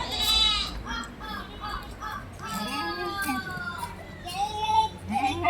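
Young goats bleat in wavering, repeated cries, close by, with a voice talking over them.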